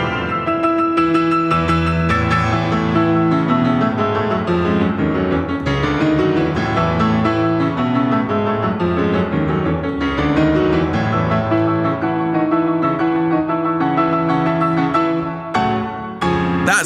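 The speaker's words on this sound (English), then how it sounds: "That's Mephisto Waltz No. 1" Liszt's Mephisto Waltz No. 1 on solo piano, loud and busy with dense, rapid chords and running passages throughout, brief pause and sharp accented strikes near the end.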